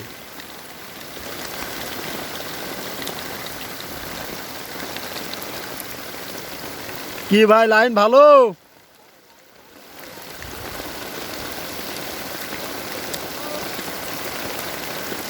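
Heavy rain pours onto a river during a fishing trip, a loud, steady hiss that is briefly interrupted by a short warbling tone and a moment of near silence. Someone speaks a few words over it.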